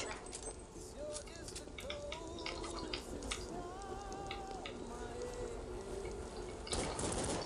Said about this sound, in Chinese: 为什么有滴答声？